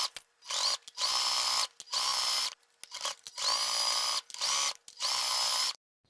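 A sewing machine stitches the lining of a fabric zip bag with a zipper foot, running in several quick bursts of steady, loud whirring separated by short pauses, with no talking.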